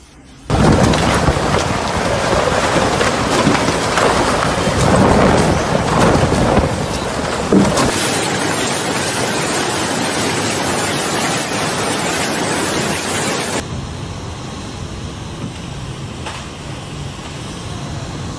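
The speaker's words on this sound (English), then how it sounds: "Severe storms have struck Italy, Emilia-Romagna region, alleged torrential rain, hail and powerful winds" A severe thunderstorm in Italy's Emilia-Romagna region, with torrential rain, hail and powerful winds, makes a loud, dense roar of pouring rain and gusting wind that shifts character partway through and continues unbroken.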